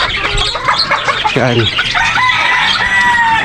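Chickens cluck loudly and close while a rooster crows at a small backyard poultry farm, with a brief voice and some windy background.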